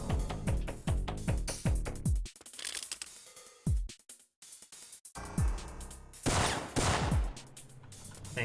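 Bursts of K3G4 gunfire in the Syphon Filter game, delivered as rapid rattling volleys in several groups with short gaps and mechanical clicks between them, loud and close, with no voices.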